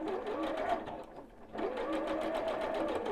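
A sewing machine runs steadily while stitching quilt blocks with a quarter-inch seam for a Carpenter Star quilt top, its motor whirring close and loud with a brief slowdown midway before resuming.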